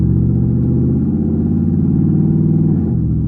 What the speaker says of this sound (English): especially on the Chevrolets, True Dual catback, it's just deep, it's rumbly